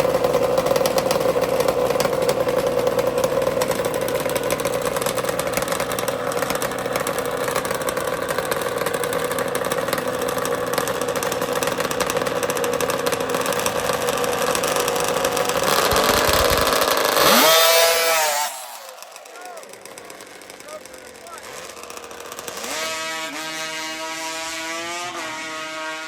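Two-stroke Yamaha and Kawasaki drag racing motorcycles scream at a high, steady buzzing pitch, loud and close, then rev and fade away before another engine rises again in the distance.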